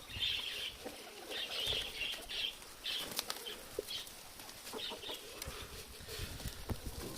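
A Moscow pigeon lands with a soft flurry of wing flaps, faint and fairly near, while thin chirps from other birds sound in the background.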